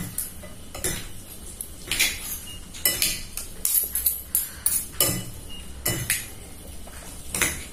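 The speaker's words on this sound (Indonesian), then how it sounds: "Habis itu kita aduk ya bumbunya biar merata." Utensil scraping and clinking against a bowl or pot while instant cheese noodles are mixed with their seasoning, in irregular close clattering strokes with no talk.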